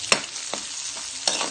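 Red onion and garlic sautéing for pork sisig, with a steady frying sizzle and a few sharp scrapes of a stirring utensil against the pan, and no talk.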